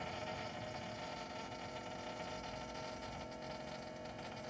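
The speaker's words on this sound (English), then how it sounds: "Hear the pump running?" Electric fuel pump on the right tank of a Cozy Mk IV aircraft, a faint steady whirring hum running continuously with no other sounds.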